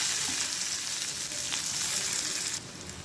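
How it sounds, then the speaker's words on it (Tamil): Onions sautéing in hot oil with popped mustard seeds for an egg curry, a continuous close hissing sizzle with faint stirring. "வெங்காயம் நல்லா வதங்கிடுச்சு."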